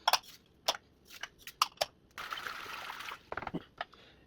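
Water pours into a brine for beef tri tip pastrami, a steady rushing splash lasting about a second amid clinks and handling knocks of ingredients and containers, close and moderately loud, with no talking.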